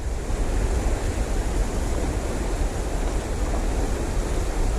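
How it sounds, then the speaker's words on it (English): Water rushes steadily through the tailrace river below the Lake Beardsley Dam, a dense, continuous roar with no breaks, loud and close, with no voices. "And this tail race is flowing."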